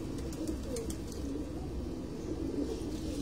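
Pigeons on a rooftop loft coo softly in a low, continuous murmur, faint and somewhat distant, with no voices over them.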